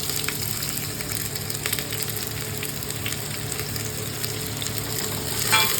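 Sliced onions frying with bay leaf in oil for a vegetable pulao, a continuous close, dense sizzle with faint stirring and a slight swell at the very end.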